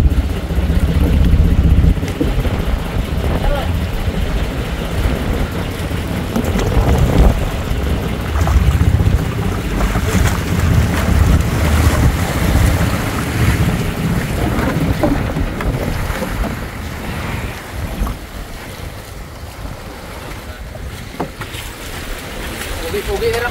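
A boat named Raptor moves across open water with a steady, rumbling wash and heavy wind buffeting the microphone, while people talk over it now and then.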